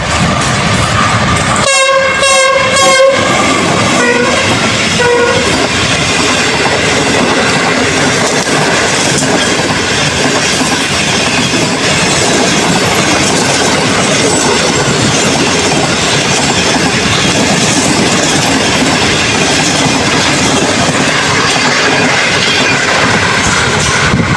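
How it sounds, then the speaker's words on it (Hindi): Shalimar Express passenger train from Lahore speeding toward Multan Cantt station past a level crossing, a loud horn blast early on, then a sustained roar with rhythmic clickety-clack of wheels as the coaches pass close by. "ये देखें शालीमार एक्सप्रेस जो कि मुल्तान कैंट पहुंचने वाली है"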